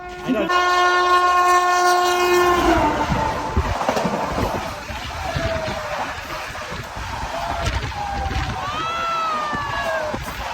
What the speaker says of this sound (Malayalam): ട്രെയിൻ വരുമ്പോ ട്രെയിൻ വരുമ്പോ